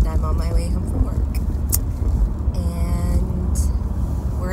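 Inside a moving car on a Friday drive home, a loud constant low road rumble and engine drone fill the cabin, with brief sharper noises of passing traffic.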